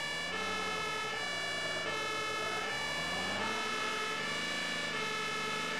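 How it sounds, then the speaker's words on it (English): A fire engine siren in the Emergency 112 video game wails in a repeating rising and falling pattern over a steady vehicle hum, loud and continuous. "so we're just going to siren on because it's a red light"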